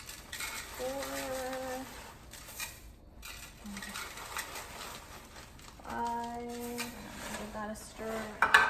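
Crispy cereal stirred into a melted Star Crunch mixture in a pot, with soft scraping and rustling plus light clinks of utensil against cookware, moderately quiet, while a voice speaks briefly.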